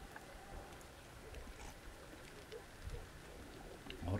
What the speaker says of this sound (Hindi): अभी ऐसे कि हल्की हल्की बारिश स्टार्ट हो गई है।